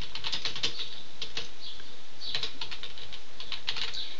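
Rapid clicking keystrokes on a computer keyboard as a headline is typed into an email marketing editor, close and crisp in quick bursts with short pauses, no talking.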